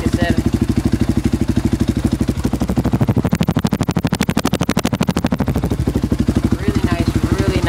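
A Polaris engine fitted with a Big Gun aftermarket exhaust idles and revs close up, its rapid, even pulses rising and falling loudly and steadily throughout.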